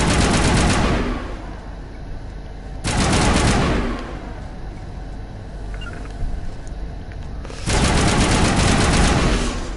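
Gunfire aimed at turrets in the video game Mass Effect Legendary Edition comes in three loud, sustained automatic bursts, with quieter battle ambience between them.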